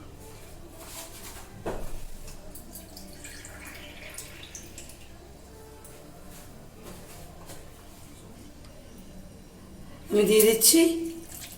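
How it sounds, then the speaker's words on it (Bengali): Water is poured into a bowl of egg and semolina batter in a home kitchen, a short splashing pour near the end, with someone talking and faint clinks earlier. "আমি এখানে আরেকটু জল অ্যাড করছি।"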